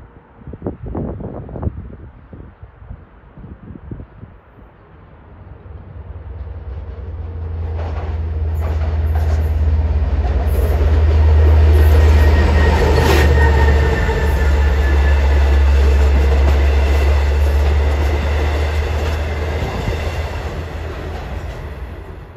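An LIRR train passes at Elmont, swelling from a distant rumble to a loud, deep roar with rail clatter and a high squeal, then fading slightly as it continues by.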